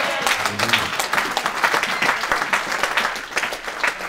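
A church congregation applauding together, dense continuous clapping from many hands that holds steady and loud throughout, with no voices standing out.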